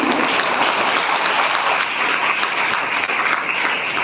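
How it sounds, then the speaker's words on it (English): Audience at a women's university inaugural session giving the speaker a big round of applause, loud, dense and sustained clapping from many hands that fills the space evenly. "Can we have a bigger round of applause for ma'am?"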